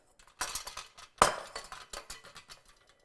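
Flour and salt are sifted through a metal sifter for a carrot ring batter, with a close series of quick metallic clicks and rattles in bursts and one sharper, louder clink between them.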